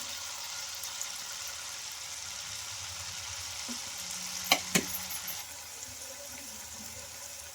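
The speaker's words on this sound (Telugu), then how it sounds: "సేమ్ ఇలానే ఫ్రై చేసుకోవాలి" Kurkure dough made from ration rice sizzles steadily as it fries in hot oil, with a couple of brief spoon clinks partway through and no talking.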